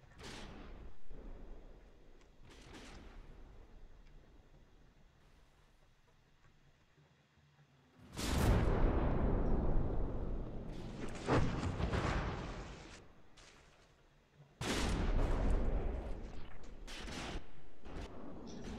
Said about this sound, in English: So you just see a stream of bullets heading towards the superstructure.